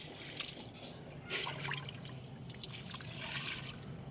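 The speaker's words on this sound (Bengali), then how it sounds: "ফুল গাছে জল দিচ্ছি" Water trickles and splashes onto flower plants in a garden in a continuous, faint pour with small surges and drips.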